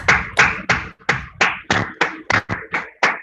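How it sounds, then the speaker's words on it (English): Conference attendees clap at a national scientific meeting, though only about ten sparse, loud, separate claps come through close by, more like one or a few people clapping than a full audience. "I think we should all give a big round of applause to Dr. Pushpa."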